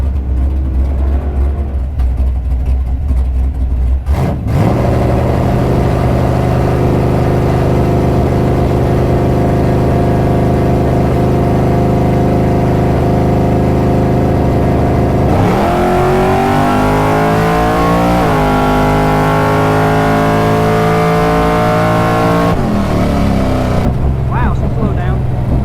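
A drag-racing car launches and accelerates hard down the strip, its loud engine note climbing steadily through the gears, then dropping and rising again as it keeps pulling, close and continuous for most of the run.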